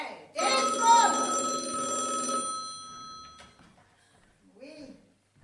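A telephone bell rings loudly during a French stage play about a bank hold-up, a continuous ringing for about two seconds that fades, followed by a short burst of speech.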